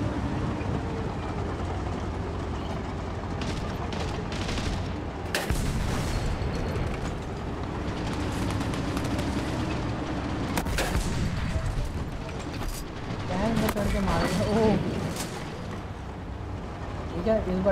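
Heavy tank cannon and gunfire in the World War Heroes video game, booming blasts and rumbling battle noise running continuously at high loudness with dense bursts throughout, a voice talking over it.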